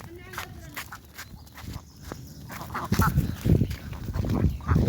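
A flock of ducks quacks in a wetland, scattered nasal calls close by mixed with splashing and shuffling movement, while someone talks over them.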